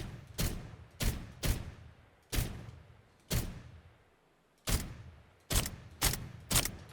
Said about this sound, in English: You can get a headshot with the Defender.